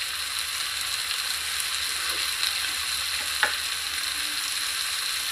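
Pepper prawns fry in a pan over low heat, giving a steady close sizzle throughout, with a few faint scraping and tapping sounds as they are stirred and pushed toward the center.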